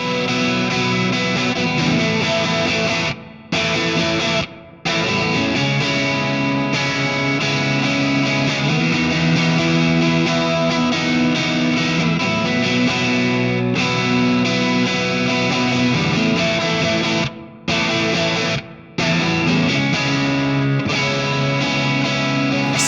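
Distorted electric guitar, a Squier Classic Vibe '60s Strat HSS through a Fractal Soldano amp model, plays chords and riffs with a crunchy, high-gain tone, with a few short pauses between phrases.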